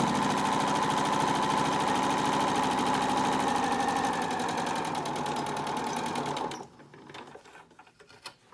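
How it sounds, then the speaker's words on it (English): A home sewing machine running a straight stitch through fabric for a face mask, a fast steady mechanical whirr and rattle that holds for several seconds and then stops, leaving quiet handling noise. "I have my machine set on a straight stitch between a 2 and a 3."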